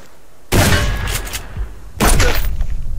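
Two loud, close gunfire bursts in the video game Subsistence, each a sharp blast followed by a short decaying rumble, about one and a half seconds apart.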